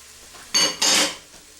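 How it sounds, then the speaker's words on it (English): Chopped green onions hitting a hot pan for chili, two short loud bursts of sizzling about a quarter second apart that fade quickly. "I cut up about 3 green onions, and we'll go ahead and throw them in"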